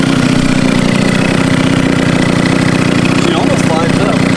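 A 150cc stunt scooter engine fitted with a PG exhaust pipe runs at a steady idle, its low, even throb close and continuous throughout with no voices.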